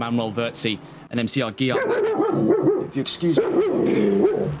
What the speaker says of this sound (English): excuse my dog there